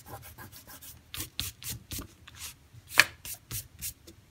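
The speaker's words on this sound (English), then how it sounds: "You just rub it off with your finger." A finger rubs masking fluid off watercolor paper in a series of short, close scratchy strokes with brief pauses between them and one sharper scrape near the end.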